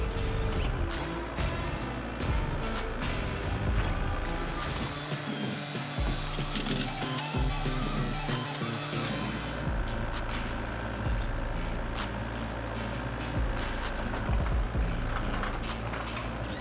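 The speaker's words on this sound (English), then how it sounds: "Ranisto Oi's Ramek wood processor is a powerful machine, skillfully turning raw logs into uniform, high-quality firewood." A Ramek wood processor in a woodwork shop cuts and splits raw logs into firewood, giving a loud, continuous mechanical roar with grinding, clanking and crackling wood, steady throughout and heard alone.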